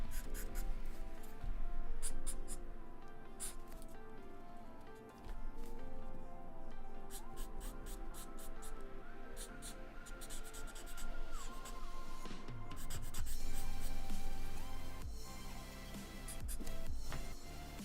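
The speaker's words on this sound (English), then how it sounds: "I will go over it with another pencil to get it more smoothed out" A pencil scratches and rubs across paper in continuous strokes, going over a portrait drawing to smooth the shading, faint under steady background music.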